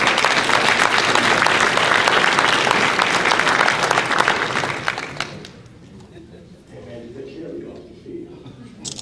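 Audience applause for a player at a Junior National Elite Player of the Week awards presentation, a dense burst of clapping for about five seconds that fades out into quieter room sound.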